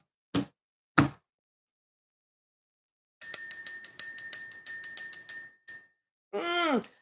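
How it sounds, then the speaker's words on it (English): A rapid series of bright metallic bell rings, about a dozen strokes in quick succession, preceded by two sharp knocks and followed by a short vocal sound. "Let's go ahead and ring the bell."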